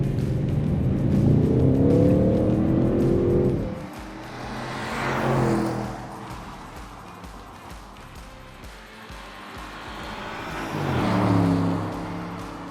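A 2022 Audi RS6 Avant's twin-turbo V8 revs loudly nearby outside the car, rising and falling in pitch, then quieter idling before another sharp rev builds near the end.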